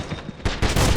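Gunfire in the Wolfenstein (2009) first-person shooter, a quick burst of rapid shots that grows louder and denser in the second half of a very short moment.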